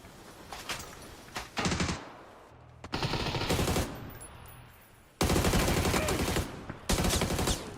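Bursts of rapid automatic gunfire in a Smirzera League Series 5 match of a shooter video game, loud volleys with short gaps, some dense fusillades and a faint electronic tone between them.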